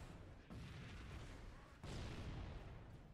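A tank fires in the video game Halo: Combat Evolved, two heavy booming blasts about a second apart, each followed by a dense rumbling wash of battle noise.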